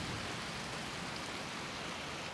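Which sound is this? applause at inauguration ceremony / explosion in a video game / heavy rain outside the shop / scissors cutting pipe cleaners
heavy rain outside the shop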